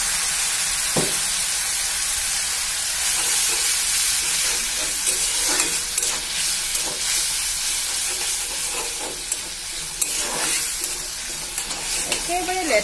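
Onions frying in oil in a pan for an egg dish with onion gravy, a steady close sizzle and hiss with intermittent stirring scrapes and clinks throughout.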